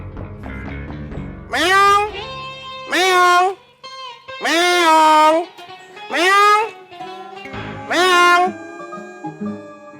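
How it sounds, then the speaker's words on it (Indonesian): A cat meows loudly and up close, five long drawn-out calls spaced about two seconds apart, with faint background sounds between them. "Kucing."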